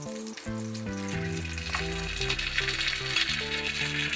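Potatoes with spices and poppy-mustard paste stir-fry in a pan for a village-style vegetarian drumstick posto dish, giving a steady sizzle and frying hiss under continuous music with no voices.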